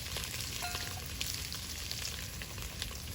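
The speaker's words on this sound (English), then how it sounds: "I will now add Gyulai sausage," Gyulai sausage (kolbász) frying in a pan with rendering bacon for lecsó, a dense crackling sizzle with scattered pops, close and steady throughout.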